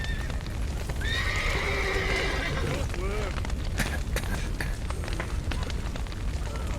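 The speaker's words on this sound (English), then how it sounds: "Right, let's get the horses out of here." Horses neigh and whinny repeatedly while hooves clatter in a burning stable in The Witcher 3, the shrill cries rising over a roaring, crackling fire and collapsing debris, with a voice heard briefly.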